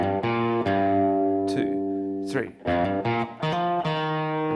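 Electric guitar playing a riff, close and clean with short picked notes and slides, plus a brief spoken count mid-phrase.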